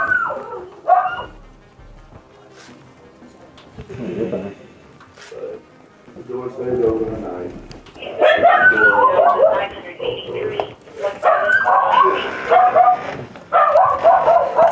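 Dogs inside a house give short whimpers and yips, then sharper barks that grow louder and more frequent toward the end, heard under and between people talking nearby.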